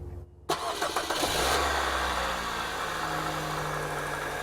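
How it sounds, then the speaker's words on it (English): A Toyota Corolla's engine cranks and catches after a short silence, then settles into a steady idle with a faint whine, close and alone with no talk. "start the car"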